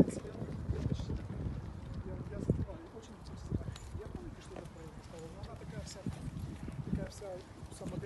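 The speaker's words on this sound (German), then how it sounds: "Oh, ich verstehe dich so schlecht wegen dem Wind." Gusty outdoor wind buffets the microphone, a constant low rumble with irregular thumps, while people talk underneath it.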